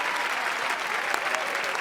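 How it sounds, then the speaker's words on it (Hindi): Brief burst of dense, loud crowd applause at a film wedding scene, a continuous wash of clapping with a faint voice or two mixed in. "तालियां तालियां।"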